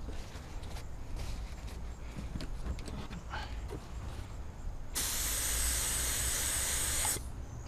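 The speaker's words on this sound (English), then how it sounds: "let me do a test spray" Quiet rustling and faint tapping, then a loud continuous hiss from a spray gun for about two seconds that stops abruptly.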